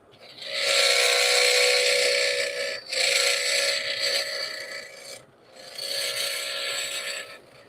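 A slightly flexible wooden workpiece spinning on a lathe chatters under sanding in a loud, steady rasp, with two brief pauses in the scraping.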